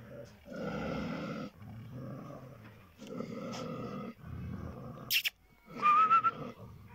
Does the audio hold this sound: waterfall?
no